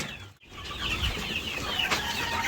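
Rhode Island Red and White Leghorn crossbreed chickens cluck and call on a farm, a lively overlapping flock heard fairly close with no talking.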